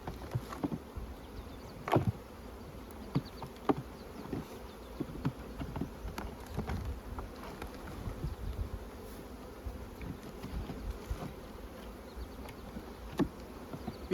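Honey bees buzzing steadily around beehive nucs being boxed up outdoors, a dense continuous drone with individual bees zipping close past at intervals.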